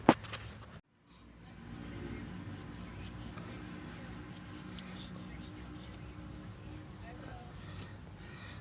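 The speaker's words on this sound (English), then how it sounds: "And then you start scrubbing. You can see it comes right off." Dirt and grease scrubbed off wheels with a wet brush and cleaning mix, a steady rasping scrub that runs continuously after a brief knock and pause, close to the microphone with no one speaking.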